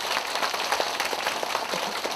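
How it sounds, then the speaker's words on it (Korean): Elderly audience at a senior college lecture applauding, a steady wash of dense clapping filling the whole moment with no speech over it. "그런 저한테 박수 한번 해주시고"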